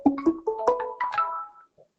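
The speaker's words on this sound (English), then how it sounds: "Somebody is ringing." A phone rings with a rising melodic ringtone of several quick tones that climb in pitch, then fade out, heard clearly on its own.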